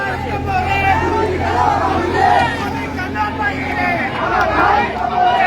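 A large crowd of students chants slogans and cheers together as a house in Khulna is demolished by bulldozer, many voices rising and falling in loud waves with a continuous babble underneath.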